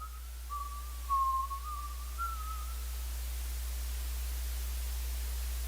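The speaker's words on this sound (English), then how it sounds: "Timothy heard a familiar whistling coming from outside" An eerie, wavering whistle of a single sustained melodic line drifts in from outside for about two seconds. It sits faint over a constant hiss of static and then fades, leaving only noise.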